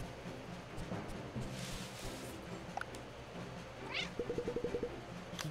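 Cat meowing in the video game Cat Quest 2, a few short mews over a game music bed with a brief run of rhythmic plucked notes near the end.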